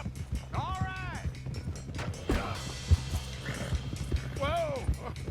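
Horse hooves clip-clopping at a run in Red Dead Redemption 2, close and rhythmic, with two whinnies and a voice urging the horse on over the hoofbeats.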